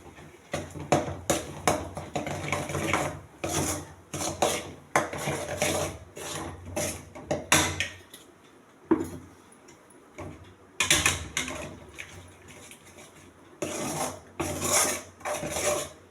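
A utensil scrapes and knocks against a pan while nut halwa with jaggery is stirred, giving repeated close scraping strokes in uneven bursts with short pauses between.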